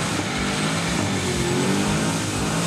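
A car engine fitted with a ProCharger i-1 programmable supercharger runs loud and steady, a dense, continuous roar with a faint rising whine, heard close with no talking.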